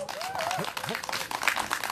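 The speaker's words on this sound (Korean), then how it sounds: "큰 박수 부탁드리겠습니다." Audience at an outdoor candlelight rally in Seongju applauds as a former county council candidate is invited onstage, a brief burst of clapping mixed with voices and talk.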